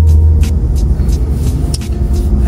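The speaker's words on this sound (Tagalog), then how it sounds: "marami rin naman sasakyan na dumadaan na" Cars and buses passing near the Silang exit, a loud steady roadway rumble with several swishing passes one after another.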